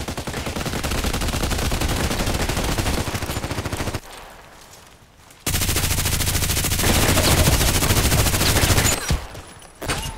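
RPKT tactical machine gun in the Contract Wars shooter game, firing long, rapid full-auto bursts loud and close, broken by a short pause and a final brief burst.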